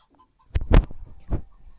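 A few short, sharp clucks from a chicken in a video game, two or three quick bursts close by with near silence around them.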